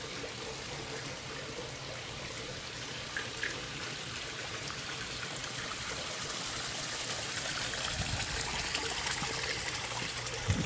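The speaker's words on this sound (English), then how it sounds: "Beautiful spa that pours the water into the pool as you see there." Water pours from a raised spa into a backyard swimming pool, a faint, steady trickle and splash that continues without pause.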